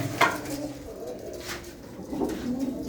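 Pigeons cooing softly in a village loft, several low repeated coos overlapping against faint background noise, with no talking.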